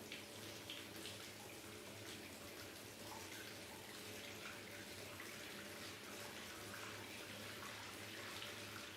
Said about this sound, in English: Give me a couple of minutes and I'll have that bath ready for you.